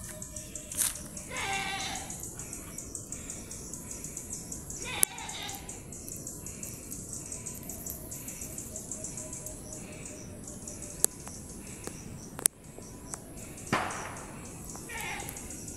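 Outdoors in the wild, a bird gives short, faint calls and chirps at scattered moments, with sharp clicks and rustling among them over a quiet, hissy background.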